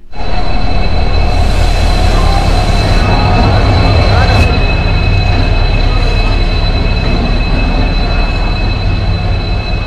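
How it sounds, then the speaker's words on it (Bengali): A train pulling into a railway station near Mukutmanipur, a loud continuous rumble of wagons and wheels with a high steady squeal, close by, with a person speaking in the middle of the noise. "ট্রেনটা এই সবে ঢুকছে"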